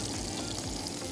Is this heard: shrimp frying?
yes